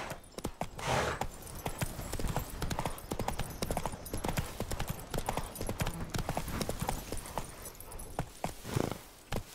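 Hooves of Roach, the horse from The Witcher 3, clip-clop rapidly in a steady galloping rhythm, close and loud, with an occasional snort or whinny and game ambience underneath.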